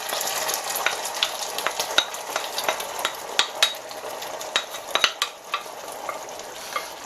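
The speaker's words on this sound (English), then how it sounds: "I'm now going to add all the ingredients into the pasta." Crab pasta ingredients tossed and stirred in a hot sizzling pan, a steady frying hiss punctuated by scrapes and clinks of a utensil against the pan, close and alone with no talk.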